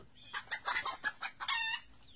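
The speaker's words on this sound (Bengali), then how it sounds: "অমনি মুরগিগুলো ডেকে উঠল" Chickens in a henhouse at night cluck and squawk in a rapid run of short, loud calls, ending in a drawn-out crowing note.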